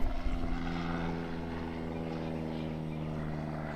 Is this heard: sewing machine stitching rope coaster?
no